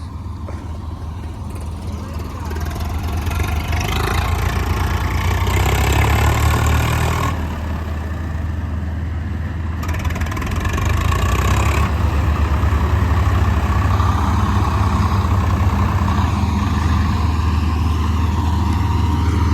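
A tractor engine rumbles steadily at close range during crop harvest in Punjab, a loud, low, continuous drone whose pitch shifts slightly as it runs.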